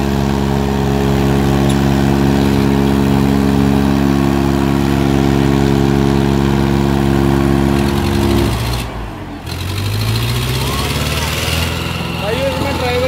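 Farmtrac and Swaraj 755 tractors in a tug-of-war pulling contest drone at a loud, steady idle-like throb, then the engine pitch dips and rises as they strain under load, with crowd noise around.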